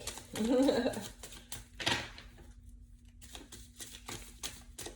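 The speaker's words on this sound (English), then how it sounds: "this deck is very big, so I have to do it in 2 separate shuffles" A large tarot deck shuffled by hand, with brief riffling and card flutters mixed in with soft handling noises while a person talks over them.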